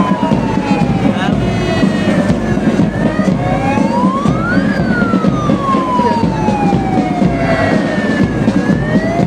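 An ambulance siren wails loudly and close during a flag-hoisting parade at a stadium, its pitch sweeping up and down continuously over engine rumble, with people talking faintly underneath.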